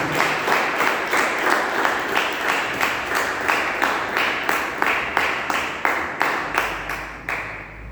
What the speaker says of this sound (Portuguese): Aplauda bem forte ao Rei da Glória, que você sente.